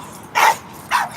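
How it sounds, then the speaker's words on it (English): A dog barks twice outdoors near Parliament Hill, two loud, close, sharp barks separated by a short pause. "so the dog's going off."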